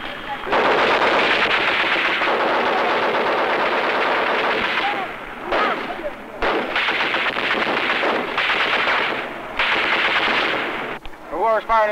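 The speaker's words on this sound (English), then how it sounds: "Whoever's firing this machine gun." Sustained machine gun fire in Vietnam War era Marine Corps combat footage, loud, dense bursts lasting several seconds each, broken by short pauses, with faint voices between them.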